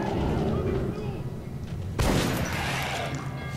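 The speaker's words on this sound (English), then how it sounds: "Shotgun's out." A shotgun fires once in the Metro: Last Light video game, a loud blast partway through over dense game noise and chatter.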